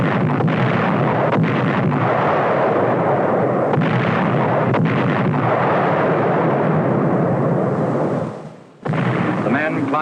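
Battleships shelling Roi and Namur islands in the Marshall Islands in 1944 during World War II, heard as a loud, unbroken roar of heavy booms and rumble that drops out briefly near the end.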